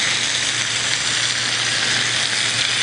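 A fish fillet sizzles loudly and steadily in a hot pan just after being flipped, a dense, close frying hiss that holds without a break and with no talk over it.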